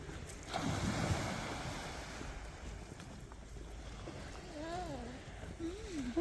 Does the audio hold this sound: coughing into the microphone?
no